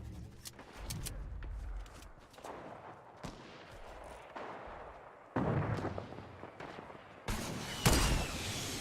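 Sniper rifle shots in a video game, with sharp booming cracks scattered across the stretch, some louder and nearer, over a low background rumble of distant battlefield fire.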